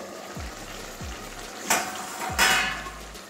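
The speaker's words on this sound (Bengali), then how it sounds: "এবারে ঢাকনাটা খুলছি।" A lid comes off a simmering pot of jackfruit curry with katla fish head, giving two sharp metallic clanks over a soft, steady bubbling and sizzling from the stove.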